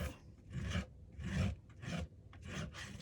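Paint being scraped off a textured wooden sign, heard as close, steady rasping strokes in four or five rhythmic passes, each a rough grating swell, with no voices.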